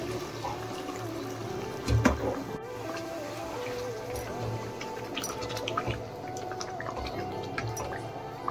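Hot water is added to dahi chicken cooking in a pan, giving soft drips, a brief splashy pour and gentle sizzling bubbling that continue quietly in the background.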